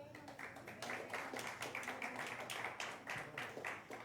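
A church congregation claps for the Lord in a steady, quick rhythm of many hands, fairly faint and even throughout with no voices over it.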